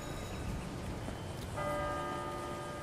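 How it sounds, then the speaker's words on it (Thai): Steady rainlike hiss, then a ringing electronic school bell signalling the end of the school day, in a GTA 5 video game, starts partway through and holds a sustained chime. "นี่เสียงกระดิ่ง"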